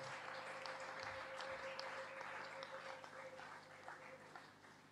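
A church congregation claps in a faint, continuous wash of applause that stays steady and distant, with a low hum underneath.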